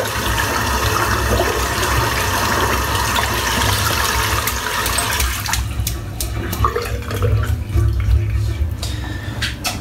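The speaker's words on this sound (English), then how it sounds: "I'm still rinsing this brush out." Water runs steadily from a bathroom tap while a shaving brush is rinsed out, a continuous loud splashing rush that thins partway through into lighter dripping and trickling.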